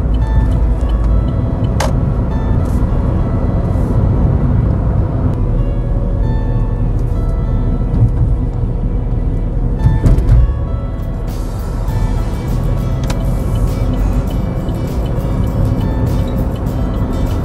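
A manual-transmission car on a Korean first-class licence road test slows and shifts to third gear while driving into a left turn: a continuous close engine and road drone heard from inside the cabin, with no talk.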